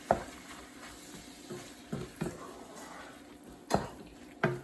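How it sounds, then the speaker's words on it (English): Keto enchilada filling being stirred in a pan: a low, quiet background with several separate scraping and clinking strokes of the spoon against the pan spread across the stretch, faint sizzle beneath. "I'm just going to give that a stir."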